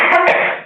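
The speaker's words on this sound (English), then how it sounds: "Excuse me, I'm having a coughing fit." A short, harsh burst of coughing up close, two quick rough hacks trailing off.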